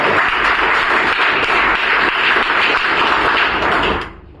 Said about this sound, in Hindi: एक बार तालियां हो